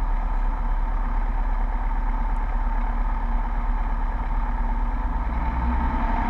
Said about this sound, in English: Go ahead and do our run up here.